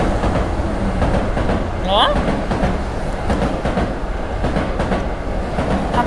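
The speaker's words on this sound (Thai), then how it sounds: "ทำไมเสียงรถไฟถึงใกล้จัง" A train rumbles past close by in the horror video game Tsugunohi, a steady, loud roar of rolling rail cars that runs throughout while a person speaks briefly over it.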